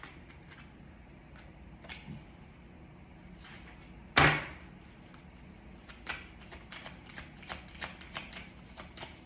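Tarot cards are shuffled and drawn in a quiet room: soft riffling and sliding flutters, one sharp loud card snap near the middle, then a run of light ticking card flicks.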